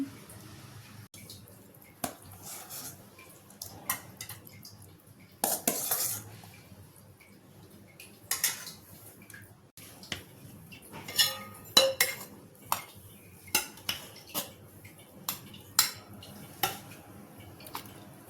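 Steel lunch boxes are packed with ridge gourd curry and rice for school, with scattered light metallic clinks and scrapes of utensils against steel, close but quiet, with long gaps between bursts.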